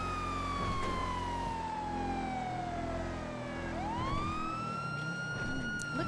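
An emergency vehicle siren wails close and loud, sweeping down slowly then climbing back up in a long continuous tone over a low engine rumble.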